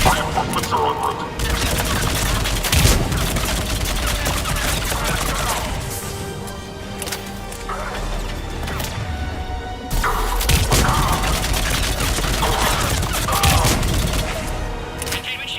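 Gunfire rattles in dense, continuous volleys during a heavy attack in the Mass Effect 3 video game, loud and close, with crashes and impacts mixed in and a voice speaking over parts of it.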